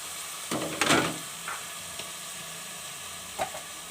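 Cubed potatoes, carrots and peas sizzle and get stirred in a pan for a mixed vegetable curry, a soft steady frying hiss with a few brief scraping stirs.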